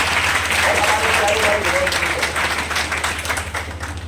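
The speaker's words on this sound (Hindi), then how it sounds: "एक बार जोरदार तालियां इसके लिए।" A crowd at a poetry recitation event in Mewar breaks into loud applause, a dense steady clapping over a low electrical hum, fading slightly toward the end.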